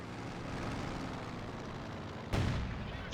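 A B-4 howitzer fires in Company of Heroes 2 on the Oka River map, a single sharp heavy boom cutting through a low, steady battlefield rumble near the end.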